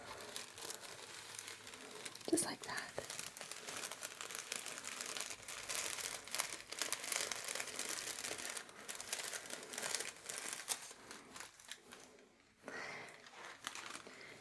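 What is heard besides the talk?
tissue paper being folded and crumpled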